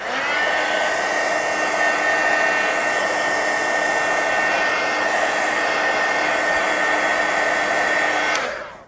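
An electric dryer blowing on an artist trading card, a loud steady whirring hiss that runs unbroken for about eight seconds before cutting off, with no voices.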